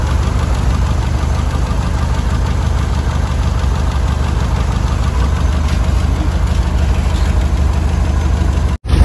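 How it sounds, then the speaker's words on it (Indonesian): A Toyota Corolla twin-cam engine idling close up, a loud steady mechanical hum with a fast even knock, running smoothly and continuously with a brief dropout near the end. "Posisi mesin nyala ini."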